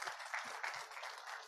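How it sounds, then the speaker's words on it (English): Attendees at a news-show event welcoming a government minister break into applause, a brief, faint spread of many hands clapping at a distance, even and unbroken with no voices over it. "Let's give a big round of applause as well"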